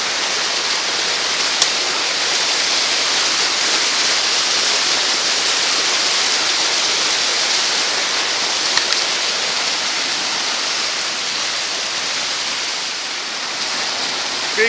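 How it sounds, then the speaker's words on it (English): A creek rushes in a steady, broadband hiss, close and continuous, with no voices over it. "Creek's running really good."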